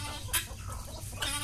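Chickens clucking at feeding time on a farm as they come for food, short close bursts of clucks and rooster-like calls over a steady low background.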